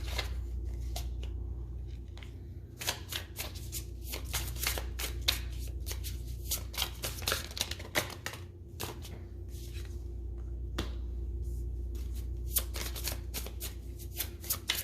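Tarot cards being shuffled close up, a continuous run of quick papery riffles and taps over a low steady hum, with no talking.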